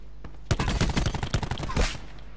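A fast volley of gunshots in the battle royale mode of Call of Duty Black Ops 4, loud and close, with a tight rhythmic string of sharp cracks lasting about a second and a half.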